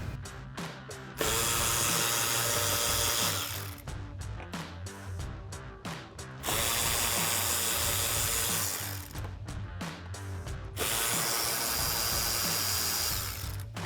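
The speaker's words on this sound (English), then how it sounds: "I'm going to use a Phillips head to remove the 3 screws in the inner wheel well liner" A powered Phillips driver runs in three long whirring bursts on the screws of a 2005-2009 Mustang's inner wheel well liner, with short ratcheting clicks and taps between runs, up close and without talk.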